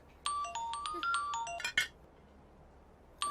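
An electronic phone ringtone plays a quick, bright melodic pattern for about a second and a half, then cuts off before a short fresh burst starts at the very end, in a quiet room.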